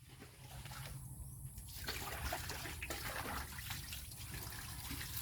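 Faint water trickles and splashes during washing, with a soft, continuous running flow and small irregular spatters throughout.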